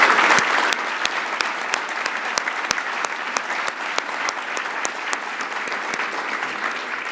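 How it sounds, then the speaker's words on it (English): A large hall audience at a university scholarship gala applauds the honorees with steady, dense clapping that fills the room at full volume, sharp individual claps standing out near the front. "please join me again in giving all of our honorees a round of applause"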